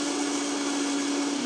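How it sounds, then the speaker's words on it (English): A kitchen blender runs at high speed whipping béarnaise sauce, a loud, steady motor whir with a constant hum, alone and without talk. "the blender's had a time to like incorporate some air into the situation"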